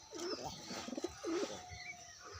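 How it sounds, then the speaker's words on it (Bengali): A Giriraj pigeon gives a few soft, throaty coos close by in a quiet space, short low warbling calls spaced about a second apart. "এই যে পায়রাটা দেখা যাচ্ছে।"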